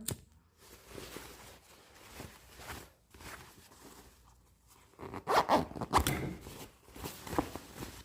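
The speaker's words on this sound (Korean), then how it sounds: "이렇게 지퍼까지" A zipper being run on a handmade bell skirt during sewing, heard as several scratchy rasping pulls of varying length, close and fairly quiet, with quiet gaps between strokes.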